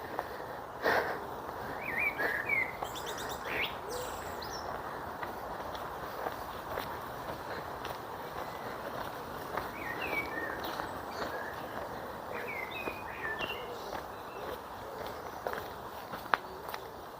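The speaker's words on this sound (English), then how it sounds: "The birds singing," Birds sing in scattered short chirps and trills around Deansgrange cemetery, fairly distant, over a close, steady crunch of footsteps along a path.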